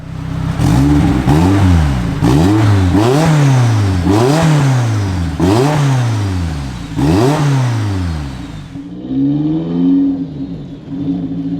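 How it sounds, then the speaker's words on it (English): A modified Renault Kangoo van with a 343 bhp 2.0-litre turbocharged Clio 172 engine revs up repeatedly through the gears, each climb followed by a drop, with a turbo whine on top, then settles to a steady cruise. "You can just hear the turbo."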